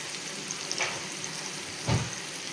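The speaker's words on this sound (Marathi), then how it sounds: "हे बघा तुकड्या आता मस्तपैकी फ्राय होत आहेत छान" Pieces of ghol fish frying in a pan give a soft, steady sizzling hiss, fairly quiet and close, with two brief louder bursts of spattering.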